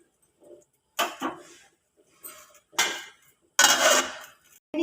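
A lid set onto a cooking pot of pointed gourd curry, giving a few separate metallic clanks and rattles spaced apart, close and clear against near silence.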